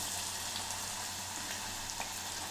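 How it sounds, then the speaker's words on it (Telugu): Fenugreek leaves fry in a pan as part of a dried-fish curry, with a soft, steady crackling sizzle and a few faint brighter pops. "ఈ మెంతి కూర కూడా ఈ విధంగా మంచిగా ఫ్రై కావాలండి"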